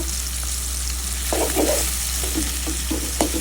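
Tomatoes, salt and other ingredients for a rohu fish curry fry in a pan with a constant loud sizzle, while a utensil scrapes and taps in quick irregular strokes, close and alone.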